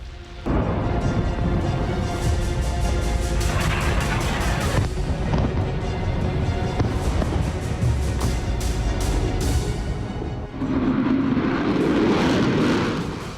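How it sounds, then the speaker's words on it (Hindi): Loud roaring Israeli military fighter jets sweep past amid sharp bursts and rumbling from explosions, sustained and intense throughout, with a second roar building near the end. "इजरायली सेना के फाइटर जेट जबरदस्त एक्शन में हैं।"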